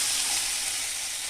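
Spices frying in oil in a pan for a fish curry make a steady, close, broadband sizzle that holds evenly for a moment with no voices.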